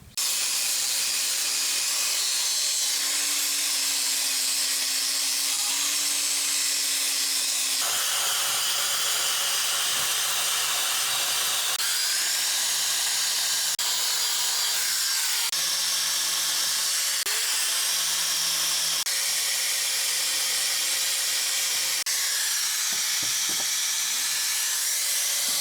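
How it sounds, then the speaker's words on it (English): Abrasive discs on a power tool strip paint from a Yates American B244 machine, a loud hissing grind that runs continuously with the motor pitch shifting up and down as pressure changes, close and without speech. "These discs are pretty good for stripping paint."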